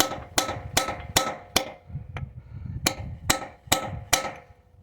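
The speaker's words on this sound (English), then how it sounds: "Dig it down." A hammer strikes a chisel to cut into a Mortorq bolt on a 4L60E transmission: nine sharp metallic blows in two rhythmic groups with a brief pause, plus a lighter tap between them.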